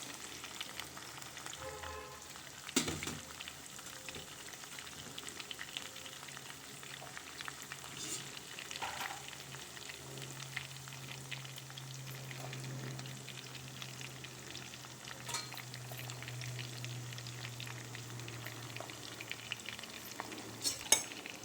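Onions and green chillies fry quietly in a pan, giving a soft continuous sizzle with occasional utensil knocks and stirring scrapes, close but faint, with no talking.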